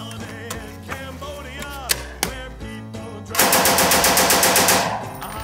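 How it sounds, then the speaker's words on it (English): AK-47 rifle fired at a shooting range, a few scattered single shots followed by a loud rapid burst of automatic fire, with echoing reports. "More hits with the AK-47."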